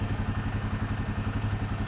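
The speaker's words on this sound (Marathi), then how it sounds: "रेडिएटरचा आवाज आहे" A Royal Enfield motorcycle's radiator fan runs in hot weather with a steady, close, low thrumming hum and an even rhythmic pulse throughout, with no talking.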